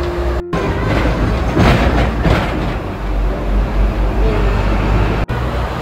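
A Hong Kong tram rumbles steadily along its tracks in a busy Causeway Bay street, a loud continuous low roll with faint squeals and traffic noise around it, heard from on board or close by.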